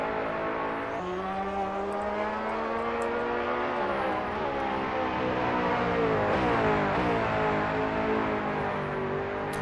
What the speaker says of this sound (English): So Galicki is currently on a flying lap in the BMW GT2.